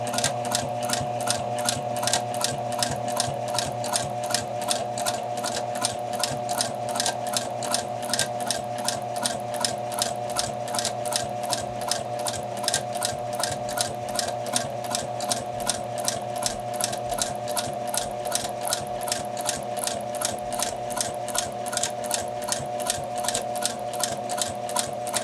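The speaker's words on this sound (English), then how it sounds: "I'm going to back tack at the beginning and at the end" A sewing machine stitches steadily and close by, back tacking at the start and end of a seam for bound buttonholes, its fast rhythmic needle clatter continuous and alone over a long stretch.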